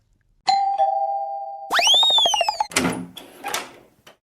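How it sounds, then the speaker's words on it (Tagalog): A sustained electronic bell tone followed by a rising chime, then rattling and a couple of clunks, like a doorbell being rung and a door moving. "Isa-isa tayo mag-doorbell, sabay tago."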